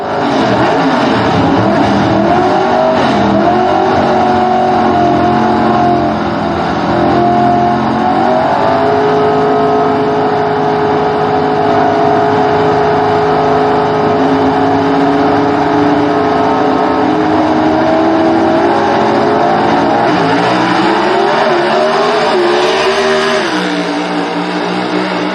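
A/Gas gasser drag race cars accelerating down the track in a close Southeast Gassers race, a loud, sustained engine roar with the pitch climbing through gear changes for most of the run, dropping off near the finish.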